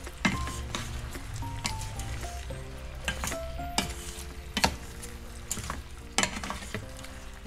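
Garlic butter shrimp sizzling in a pan while being stirred, a steady fry hiss broken by repeated clinks and scrapes of a utensil against the pan, fairly close and moderately quiet.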